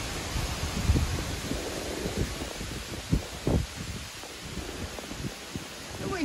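Hurricane wind from Hurricane Henri blows outdoors in Westport, Massachusetts, bending grasses over; a steady broadband roar with gusty buffeting and brief louder thumps of wind hitting the microphone, continuing without a break.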